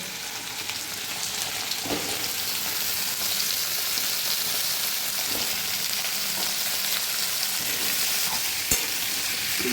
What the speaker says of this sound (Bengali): পেঁপেগুলো একটু ভালো করে ভেজে নেবো